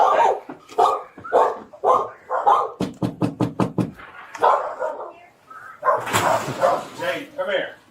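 A dog at a car dealership gives a rapid burst of about six sharp barks, loud and close, with people talking before and after.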